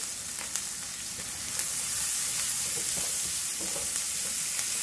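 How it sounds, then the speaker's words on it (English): Onions and crispy bacon fry together in a pan, giving a steady, close broadband sizzle with occasional sharper crackles and pops and no talking. "my bacon is super crispy now. I'm adding in all the onions."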